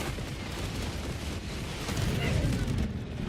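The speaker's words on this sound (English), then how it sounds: "Calling in orbital strike." Orbital strike explosion in a video game, a dense rumbling blast that builds and swells into a heavy roar toward the end, loud and sustained rather than a single sharp crack.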